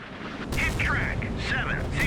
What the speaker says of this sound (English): Nice secondary explosion.